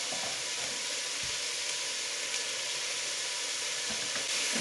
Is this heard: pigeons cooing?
no